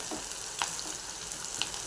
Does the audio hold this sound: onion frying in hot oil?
yes